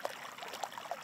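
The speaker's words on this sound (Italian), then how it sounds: "Il suono del ghiaccio che si trasforma in acqua è dappertutto" Meltwater trickles steadily from melting alpine glacier ice, a faint, continuous flow broken by small brief drips and splashes.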